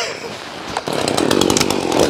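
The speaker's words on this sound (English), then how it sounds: "Jim, tell him if he used the saw a little bit more RPMs, he wouldn't be stuck." A chainsaw running and cutting, bogging down as the bar gets stuck in the wood, a short rough burst rising in intensity, with faint background voices.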